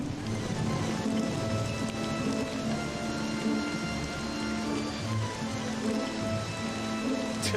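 Steady rain falls continuously in Dracula 3: Path of the Blood, an even, dense hiss with no breaks and no other prominent sounds.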